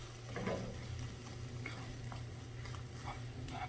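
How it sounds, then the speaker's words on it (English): Spinach goes into a pan of cooking eggs, a steady close sizzle of frying with soft stirring scrapes running through, no voices. "Now I'm going to add spinach"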